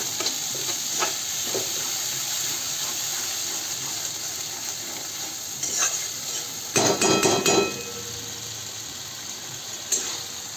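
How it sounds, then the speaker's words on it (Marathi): A spoon stirs a thin peas and potato curry with grated fresh coconut in a pan, a soft continuous sizzle and scraping with a louder burst of clatter near the end. "असं छान मिक्स करून घ्यायचं आहे त्याच्यामध्ये ना ओलं खोबरं पण घातलेलं आहे"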